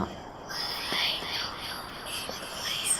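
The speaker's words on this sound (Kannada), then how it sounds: "ಅವನ ಕಿವಿ ಹತ್ರ ಯಾರೋ ಪಿಸ್ಕುಡುವಂತಹ ಶಬ್ದ" Whispering close to the ear as a spooky story sound effect, a soft breathy murmur running continuously at low volume with faint sibilant bursts.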